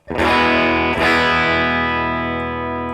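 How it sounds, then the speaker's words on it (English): Electric guitar through a Vox AC30 amp model on a NUX MG-30, with a crunchy, chiming tone: two strummed chords, the second ringing out and slowly decaying. "we could go to a Vox if we wanted to, a Vox AC30"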